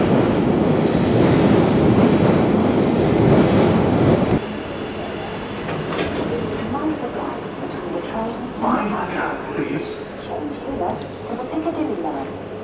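A London Underground train rumbles loudly, then its rolling clatter and wheel noise continue more softly as it moves along, with some talking in the background.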